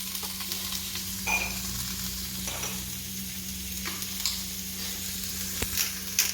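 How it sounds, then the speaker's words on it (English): Onions cooking down in a pan with Spanish chorizo, seasoned with paprika and salt, make a continuous close sizzle with a low steady hum beneath and occasional light scrapes and clicks of stirring. "We just want to cook these onions down just a little bit before we add the shrimp"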